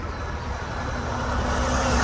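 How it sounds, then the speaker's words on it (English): A semi truck rumbles past on a road, a steady broadband roar of engine and tire noise that swells slightly as it nears. "Hey, here comes a semi."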